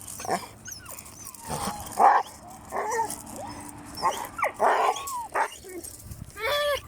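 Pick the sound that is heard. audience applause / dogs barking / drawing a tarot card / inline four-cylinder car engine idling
dogs barking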